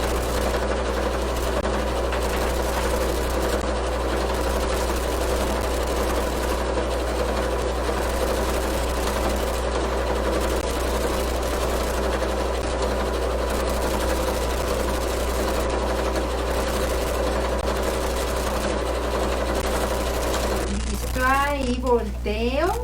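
A Piccolo sewing machine stitches the seams of a fabric glasses case with a snap clasp, humming in a steady, even run close by, with a brief voice-like sweep near the end.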